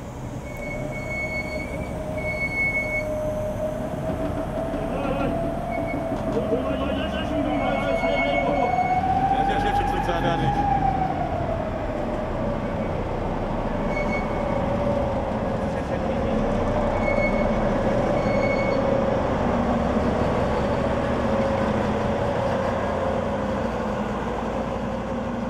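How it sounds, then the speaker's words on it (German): Old steam locomotive 94 1538 rolling slowly into a storage shed, a loud continuous rumble of wheels with drawn-out metallic squeals rising and falling over the whole stretch, a voice talking faintly underneath. "Nun dauert es nicht mehr lange und unsere 94-15-38 steht in der Abstellhalle der Malowa."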